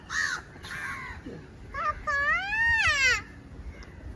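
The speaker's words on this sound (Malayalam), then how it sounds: "ആ കാക്കയെ വിളി കാക്ക വന്ന് പാപ്പ കഴിക്കാൻ പറഞ്ഞു" A crow caws a few times up close, its harsh calls mixed with a child's whimpering cry.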